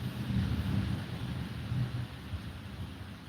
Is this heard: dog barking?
no